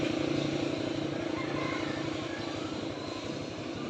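A motorcycle engine idles and putters close by with a steady low rumble, running continuously and easing slightly toward the end as the bike is brought to a stop for parking outside an RM store.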